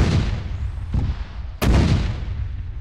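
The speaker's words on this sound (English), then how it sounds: "god, that's loud. Can you hear me alright? Yeah, I can. Fucking explosions." Deep rumbling booms fill the clip, with a sharp loud blast cracking out midway over continuous low roaring, like heavy explosions in the video game Arma 3.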